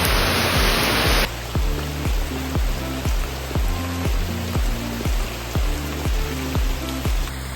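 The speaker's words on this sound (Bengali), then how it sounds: "আজকে মনে হয় আর বাজার যাওয়া হবে না, যা বৃষ্টি হচ্ছে" Heavy rain pours down steadily, a dense close hiss of falling water, joined after the first second by a regular rhythmic tapping beat of drops on a surface.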